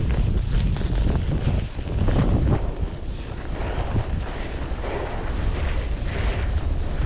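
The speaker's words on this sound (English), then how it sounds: "Ooh, nice headwind." Strong headwind roars across the microphone while riding a bicycle with studded fat tires on a bike path, a steady loud buffeting rumble with gusty swells and no voices.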